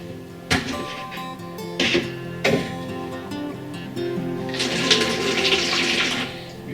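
Wet charcoal slurry poured from one container into another, a sloshing liquid pour with a few knocks and bumps at the start, then a steady rushing flow that fades out, close by and with no talk.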